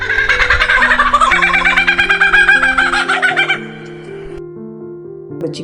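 A superb lyrebird imitating a kookaburra produces a loud, rapid run of cackling, laughing notes that pulse rhythmically for several seconds before stopping abruptly, with music underneath.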